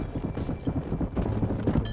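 Horse hooves clip-clopping in Red Dead Redemption, a rapid, even run of close hoofbeats continuing throughout, over a low rumble of background noise.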